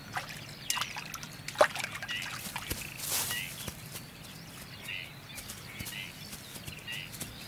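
Camargue horses walking, with irregular hoof clip-clops on the ground and a faint whinny, heard at a modest distance under a French narrating voice.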